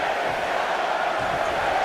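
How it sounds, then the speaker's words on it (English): A wrestling video game arena crowd roars and chants a countdown for the next Royal Rumble entrant, a steady, full crowd din filling the whole stretch. "Listen to this crowd count the next one in."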